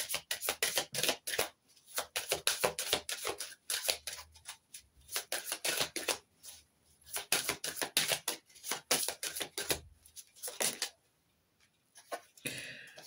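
Tarot cards are shuffled in quick, repeated riffling bursts with brief pauses between rounds, close and crisp, with no talking over them.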